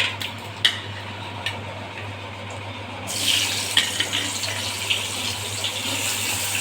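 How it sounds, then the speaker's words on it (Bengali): Onions tipped into hot oil for a Bengali country chicken curry break into a loud, hissing sizzle partway through, after quieter kitchen ticks and clinks, then keep frying steadily. "এবার পেঁয়াজটা দিয়ে আমি ভালো করে ভেজে নেব"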